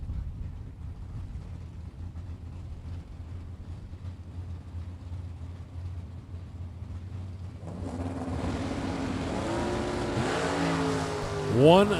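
Two drag racing cars, a Roadster and a Chevrolet Camaro, rumble low at the line before a louder, broadband engine roar builds and holds over the last few seconds, rising in pitch near the end as they launch.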